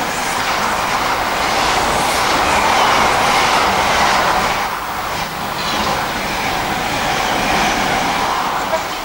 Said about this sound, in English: 66109 with a car train. Empty wagons.